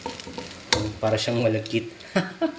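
Leftover rice is stir-fried in a pan for bacon fried rice, with a spatula scraping and clacking against the pan over a low sizzle while someone talks.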